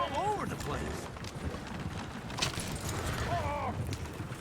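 Horses clop and run in Red Dead Redemption 2, with hooves drumming steadily in the distance while people talk over the action.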